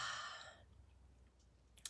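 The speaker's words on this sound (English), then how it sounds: "Exhale out. 3 deep breaths in and" A single deep breath exhaled as a long, soft airy sigh close to the microphone, fading over about half a second, followed by quiet and a faint click near the end.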